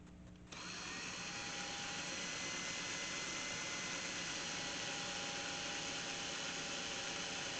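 A power drill whines steadily and continuously while drilling through a brass pin in a knife, starting abruptly and holding a constant high-pitched buzz throughout, close and moderately loud.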